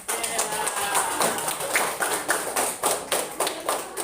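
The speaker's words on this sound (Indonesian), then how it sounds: "untuk penyemangat kita tepuk tangan lagi" A group of people in a classroom training session clap their hands together, a quick run of sharp, loosely synchronized claps at close range, steady throughout and with no speech over it.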